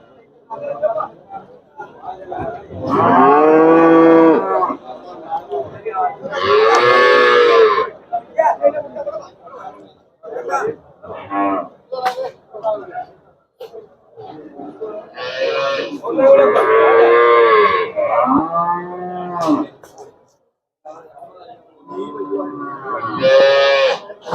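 A young buffalo calf moos repeatedly at a cattle market, long drawn-out bawls spaced several seconds apart, close by, with people chattering between the calls.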